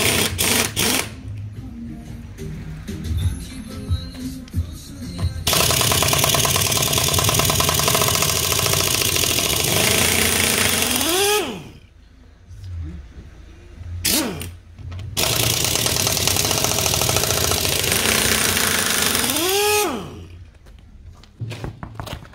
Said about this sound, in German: Wir haben hier einmal 19 mm Nuss, Schlagschrauber, ein bisschen Luft und let the magic begin